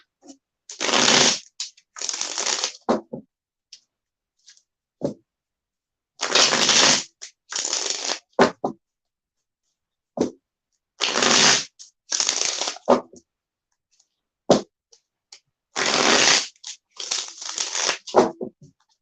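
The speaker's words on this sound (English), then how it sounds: "really get these cards shuffled up" A deck of cards shuffled in repeated short bursts of riffling and shuffling, each lasting a second or two, separated by brief pauses, close and crisp.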